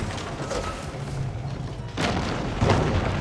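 The White Tower castle collapsing in Age of Empires 4: a deep booming crash with grinding, mechanical rumble, swelling louder in the second half.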